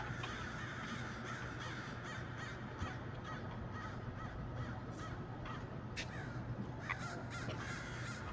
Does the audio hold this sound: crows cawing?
yes